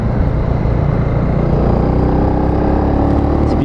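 A Honda CB300R motorcycle rides through a string of curves at about 50 km/h, its engine droning steadily and fairly loud alongside constant wind rush, with no voices.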